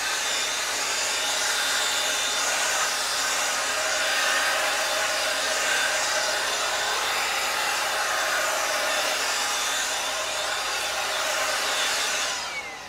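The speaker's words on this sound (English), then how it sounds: "So I'm gonna try to shortcut it with the blower." A blower pushes a steady, loud stream of air over a car tire coated in Meguiar's Hybrid Ceramic tire shine, holding an even rushing roar for the whole stretch before tapering off at the end.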